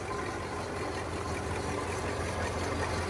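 A 1965 Cadillac Eldorado convertible idles with a faint water pump noise, producing a steady low engine hum and even mechanical whir at a quiet level.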